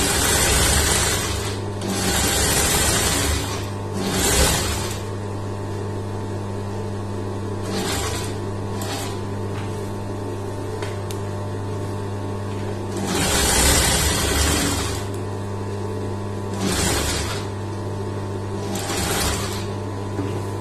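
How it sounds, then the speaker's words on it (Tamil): A sewing machine stitches along a blouse lining in repeated runs a second or two long, separated by pauses, with a steady hum running underneath throughout and no talk. "லைனிங் மேல நம்ம ஒரு தையல் போட்டு வரலாம்"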